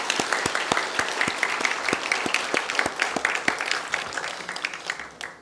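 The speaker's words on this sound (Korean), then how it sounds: "중고등부 전도 집회에 말씀을 전해주신 우리 윤희준 목사님께 감사의 박수 부탁드리겠습니다" A church congregation claps in thanks for the pastor during a Sunday service, steady crowded applause with sharp individual claps standing out, sustained for several seconds before tapering at the end.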